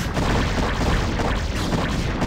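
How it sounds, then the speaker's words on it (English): Cannons pound away at drones in a strategy game skirmish, a continuous loud barrage of booming shots and crashing impacts overlapping one another with no pause. "Those cannons three-shot the drones"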